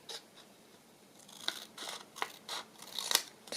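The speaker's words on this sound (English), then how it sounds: "I'm going to have to cut it across" Scissors snipping across the edge of a page in a vintage travel journal: several crisp, close cuts in an uneven rhythm, quiet and with no voice over them.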